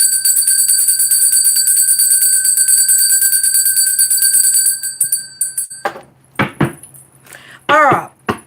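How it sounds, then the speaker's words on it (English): A bell rings with a bright, sustained metallic tone that holds steadily for about five seconds and then cuts off, after which a person speaks in short phrases. "We're just going to ring that bell."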